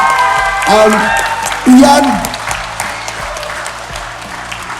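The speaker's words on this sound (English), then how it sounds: "Can I have one big massive round of applause for Ian before we chat with him?" A talent show audience at a callbacks round gives applause for a contestant, a steady crowd clapping continuing under a host's voice.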